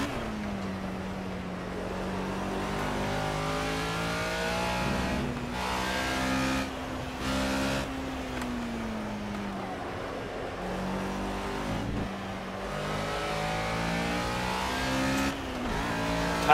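A race car lapping a circuit in the Project CARS video game, its engine droning steadily and loudly throughout, with pitch swooping up and down through gear changes and brief dips as the car brakes into corners.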